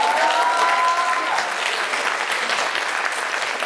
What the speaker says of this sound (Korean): 아카데미 박수 조금만 쳐주세요